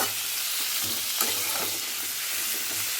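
Mango pieces for a sweet mango pickle fry in a pan with a little salt while being stirred, giving a steady, close sizzling hiss with scraping stir strokes throughout.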